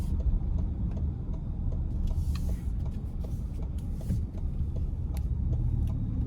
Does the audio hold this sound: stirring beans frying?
no